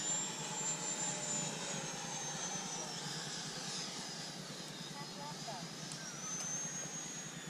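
An FMS 80mm L-39 radio-controlled model jet makes a slow pass outdoors, giving a steady, continuous ducted-fan whine that stays loud throughout while people talk nearby.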